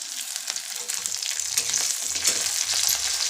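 Curry leaves, browned onion, cumin and mustard seeds sizzle steadily in hot oil for a potato bhaji, a dense continuous crackle with scattered sharper pops and spits throughout.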